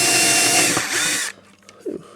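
An electric drill bores a shallow pilot hole into plywood on a model railway build, whining loudly for just over a second before stopping abruptly, followed by a few faint handling knocks.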